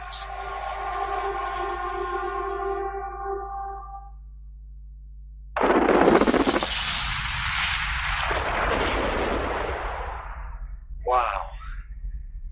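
A huge mining blast set off with 180,000 tonnes of explosives at a gold mine: a steady horn-like tone gives way to a sudden deep boom and a long, loud rolling rumble that slowly fades.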